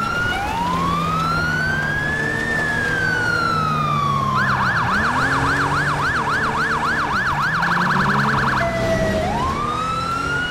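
A police siren in the video game GTA V rises in a long wail, then switches to a rapid yelp and returns to a wail. It is loud and close, with no talk over it.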